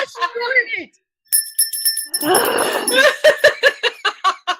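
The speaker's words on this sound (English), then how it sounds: "Jazz, that bell's insufferable, but I kind of love it" A bell rings sharply in a short burst amid talk and laughter, followed by a run of quick, bright repeated strikes; voices are heard before and around it.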